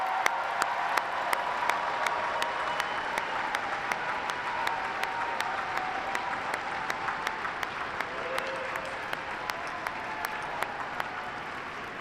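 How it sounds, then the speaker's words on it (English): Steady, sustained applause from a large commencement audience honoring graduates at an Eastern Kentucky University spring ceremony, dense clapping filling the hall for the whole stretch with a few sharper claps standing out, no talking over it. "Let's give one more round of applause for today's graduates."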